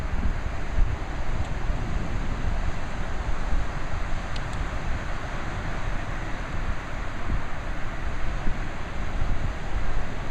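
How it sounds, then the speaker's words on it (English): Strong wind by the ocean at Bodega Bay buffets the microphone with a constant rumbling roar that carries a faint hint of surf, loud and unbroken for ten seconds, with no voices. "Very windy, so it's going to be hard to hear if I talk."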